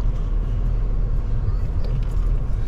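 Engine of a 2008 Impala under light throttle, a steady low rumble of road and motor noise throughout, close and fairly loud.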